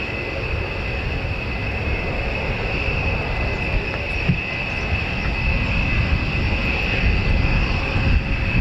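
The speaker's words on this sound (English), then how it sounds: "something that's quite special, really, this supersonic strategic heavy bomber" A USAF B-1 Lancer supersonic strategic heavy bomber departs RAF Fairford, its jet engines giving a continuous broad roar with a high whine held steady over several seconds, loud and sustained, with no voices.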